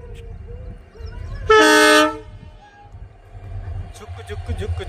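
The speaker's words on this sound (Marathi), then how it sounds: "गाडी आली, गाडी हॉर्न पण देत आहे" A train pulls into a railway station and sounds one loud, sustained horn blast lasting about half a second, followed by rumbling and clatter of the arriving train and people talking nearby.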